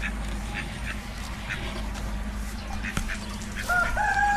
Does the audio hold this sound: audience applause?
no